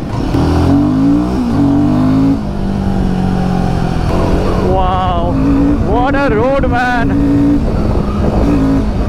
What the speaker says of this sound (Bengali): বাইকের সাউন্ডটাও জাস্ট সেরা